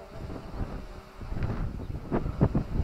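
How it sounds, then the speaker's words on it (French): Strong wind buffets the microphone outdoors during a drone test flight, a rumbling low roar with gusty bursts growing stronger toward the end. "il y a vraiment beaucoup de vent"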